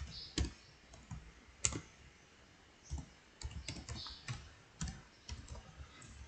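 Close, soft clicking from a computer keyboard as a username is typed, in irregular short runs of keystrokes with brief pauses, quiet in a still room.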